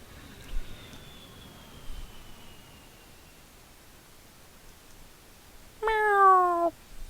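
A cat meows once, fairly close and clear, near the end of a quiet stretch with faint background hiss and a thin steady tone fading early on.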